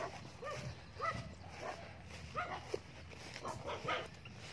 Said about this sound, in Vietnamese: Đi gần nhà chó sủa ghét.